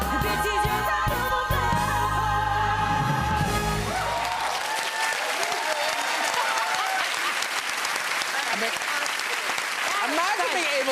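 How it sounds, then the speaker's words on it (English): A studio audience on a talk show breaks into loud, sustained applause after a stretch of music and voices, with the clapping continuing dense and even through the remaining seconds. "This is a round of applause."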